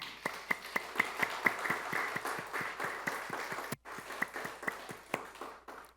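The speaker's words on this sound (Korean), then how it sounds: "우리 하나님 앞에 영광의 박수를 올려드립시다" A church congregation claps in unison during a Sunday service, steady rhythmic beats at a moderate pace filling the hall, briefly pausing before resuming, with no voices over it.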